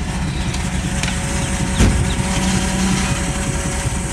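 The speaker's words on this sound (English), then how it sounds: "Don't mind our awesome truck and our crazy noises it makes." Truck engine running roughly during curbside garbage picking, with a loud, steady low rumble and a brief clunk midway through.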